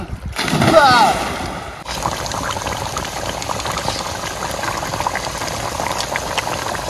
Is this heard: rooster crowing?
no